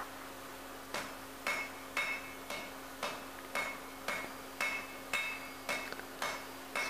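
Steady hammer blows on mild steel during a second forge-welding heat without flux, roughly eleven evenly spaced ringing strikes about every 0.55 seconds, close and clear with a constant hum underneath.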